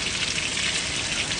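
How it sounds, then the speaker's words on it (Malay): Chicken for ayam goreng sizzles in hot oil with a steady, even hiss throughout. "kita goreng lebih kurang dalam 8 minit satu belah tu"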